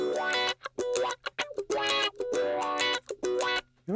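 An Ibanez electric guitar on the middle position of its five-position pickup switch with the toggle down, playing short, choppy funk chords in a tight, bouncy rhythm with crisp muted gaps between strums, clear and with no talking.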